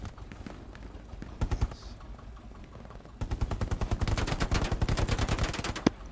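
Gunfire in the WWII shooter Hell Let Loose: a few scattered shots, then a long rapid burst of automatic fire crackling in close succession, loud and near.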